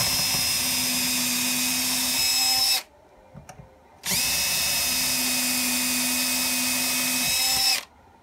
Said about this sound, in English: Then go ahead and drill your other two holes.